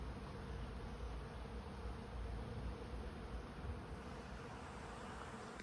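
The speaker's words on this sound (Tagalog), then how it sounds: "Ito lang kinakatakot ko, ang daming bubuyog." Bees buzz softly and continuously, a faint droning hum that holds steady for a few seconds.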